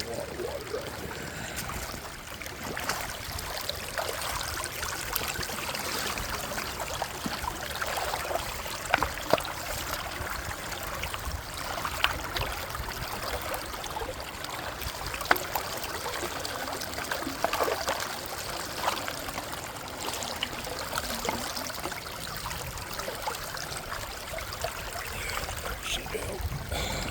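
A rain-swollen creek in Indiana rushes steadily past a gold prospecting spot, a continuous broadband wash and trickle of flowing water held close and fairly loud, with no talking.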